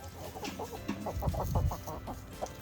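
Chickens cluck in a rapid, close series of short calls, several overlapping, with no talking.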